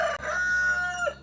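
A farmyard rooster crows once, loud and close, a long drawn-out call that holds steady before dropping off at the end.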